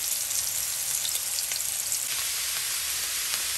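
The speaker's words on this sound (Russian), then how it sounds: "Переворачиваю. И обжариваю с другой стороны." Eggplant slices fry in a pan with oil, giving a loud, continuous close-up sizzle and crackle throughout, with no voices.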